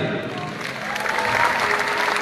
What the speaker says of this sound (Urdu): زوردار تالی